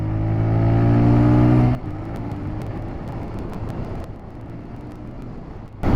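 A TVS Raider 125 motorcycle accelerating in power mode, its engine rising steadily and then dropping off abruptly into a lower, rougher drone with wind noise.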